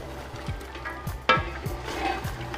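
Chicken korma masala sizzles in oil in a pan over medium-high flame while being mixed, rhythmic scraping strokes of a spoon over a steady frying hiss, with one sharper clink midway.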